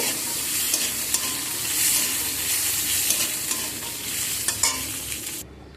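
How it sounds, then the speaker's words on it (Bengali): Green peas fry in a pan with a constant close sizzle, broken by scraping taps as a spatula stirs them, ending abruptly; no voices. "এখানে একটু মটরশুঁটি আমি দিয়ে দিলে মটরশুঁটিকে একটু হালকা করে নেড়ে নেব"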